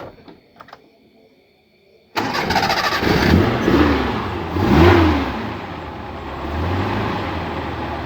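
A Suzuki Carry hybrid car that runs on petrol or LPG starts up after a quiet moment, then its engine idles and revs loudly and close by, swelling and easing back.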